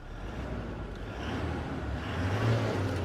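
A Toyota Fortuner Legender 4x4 engine revs as the accelerator is pressed, a steady low rumble that slowly swells louder toward the end, heard alone without talk.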